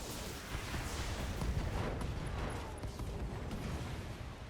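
Ammo explosion in a mech combat video game, a rumbling, crackling blast that swells early and then rolls on as a dense, noisy roar at moderate volume.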